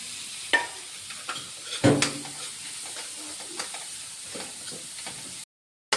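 Onion, capsicum and carrot frying in a pan for white cheese pasta, a close, soft sizzle with scattered clicks and a sharper scrape of stirring, ending abruptly in silence.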